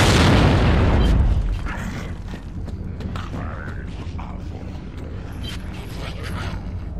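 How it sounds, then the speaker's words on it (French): A big explosion in Gears of War 3, a loud booming blast at the start that decays into rumbling debris and creaking mechanical rattles, with brief talk in the background. "Gare à l'explosion!"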